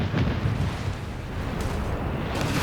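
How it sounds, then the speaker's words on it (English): Grenade blasts in Company of Heroes 3, a World War II strategy game, rumble as dense, low booms that run continuously over a steady bed of battle noise, loud and close with no voice on top. "Grenades off here."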